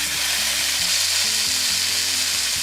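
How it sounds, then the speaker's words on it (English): A pound of ground beef frying in a large high-sided skillet over medium-high heat, a loud, steady crackling sizzle, with no speech. "I'm just gonna add a pound of ground beef to this large skillet that has the high sides."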